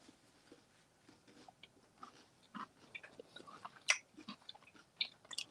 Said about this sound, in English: Like I'm chewing into a kernel, I think.